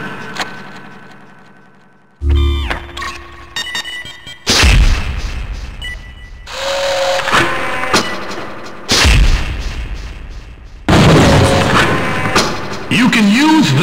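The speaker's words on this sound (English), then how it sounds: "Using a timed trigger setting, you can make your mule into a grenade launcher." Grenade launcher explosions in the 2000 PC shooter Gunman Chronicles, a series of loud, heavy blasts separated by short gaps, with crackling debris tails and game noise between them.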